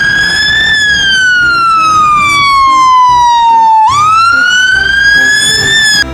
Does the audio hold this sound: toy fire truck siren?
yes